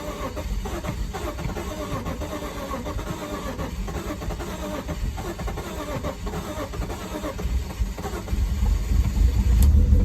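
A car raised on jack stands cranks and struggles to start after sitting unused for a while, engine noise churning steadily throughout and swelling louder near the end as it catches.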